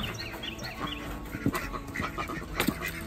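Ducks quack in a farm pen, with several short nasal calls from a few birds scattered across the moment, two louder ones standing out among softer background calls and faint farmyard noise.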